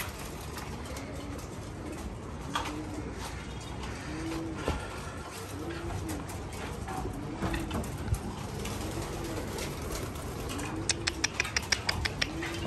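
Homing pigeons of foreign racing breeds coo in a loft, with soft, rounded calls repeating at a steady rhythm over a constant background hum and a few sharp clicks toward the end.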